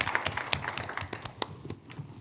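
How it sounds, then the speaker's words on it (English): An audience at an Oxford-style debate claps, scattered individual hand claps in an uneven, fairly sparse patter at moderate distance, fading toward the end. "Give them a round of applause."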